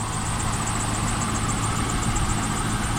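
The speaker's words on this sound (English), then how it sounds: "But it idles good, sounds great." Steady idle from a 1999 Pontiac SLP Firehawk that had been sitting for a while, a smooth, close, unbroken engine drone with a light vibrating hum and no voices.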